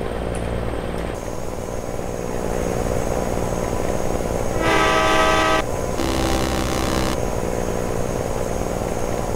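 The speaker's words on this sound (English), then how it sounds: "I like a train horn, man." A train horn sounds in Euro Truck Simulator 2 with the ProMods map, two loud sustained blasts of a couple of seconds each over a steady engine drone, with a brief gap between them.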